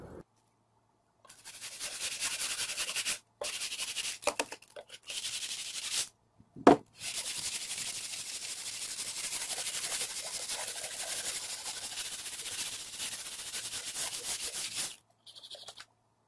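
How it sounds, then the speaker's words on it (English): Sandpaper rubbed by hand over a worn 52-year-old wooden gun rack, producing close, scratchy hissing strokes in long sustained passes separated by brief pauses and a single knock. "I'm going to put a little sandpaper on this, and a little sandpaper on the bottom"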